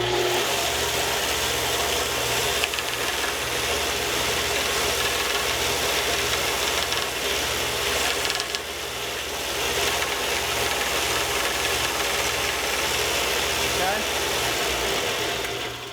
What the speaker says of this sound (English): All right, so that's our little belt sander.